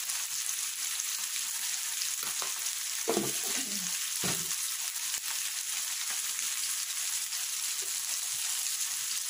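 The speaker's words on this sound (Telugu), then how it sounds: "టమాటాలు ఉల్లిపాయలు పసుపు సాల్ట్ వేసుకున్నాను. ఇవి బాగా ఫ్రై అవ్వాలి." Tomatoes and onions with turmeric and salt fry in a pan, a steady close sizzle and crackle throughout, with a few soft stirring scrapes in the middle.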